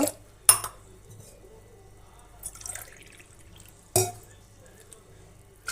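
Splashes of water poured into a pressure cooker come in separate bursts with quiet gaps, alongside a clink of metal.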